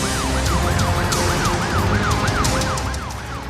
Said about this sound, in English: All the other vehicles then give way to the ambulance to help it reach the hospital as soon as possible.